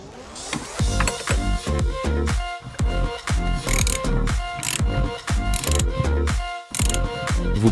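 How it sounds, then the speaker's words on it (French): Ratchet wrench clicking steadily and loudly in quick bursts while undoing the clutch pedal fastening on a Peugeot 205, with metallic mechanism clatter and short pauses between strokes. "il est nécessaire de démonter la pédale d'embrayage à l'aide d'un cliquet et une clé"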